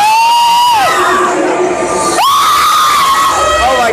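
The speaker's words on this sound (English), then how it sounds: "I'm screaming so loud, I'm so sorry." Riders on the Tower of Terror drop ride at Disney's Hollywood Studios scream loudly and continuously, high rising and falling shrieks from several people right up close.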